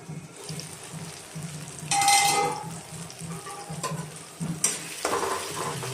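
Chopped tomatoes frying with mustard greens in a pan, a soft steady sizzle broken by a few louder bursts of spatter and stirring clatter, close and without talk.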